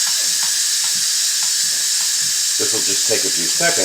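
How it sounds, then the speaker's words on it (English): Steady loud hiss of steam venting from an Instant Pot on quick release after decarboxylating a jar, continuous throughout while a person speaks over it. "now what I'm going to do is turn it off and do a quick release of the steam"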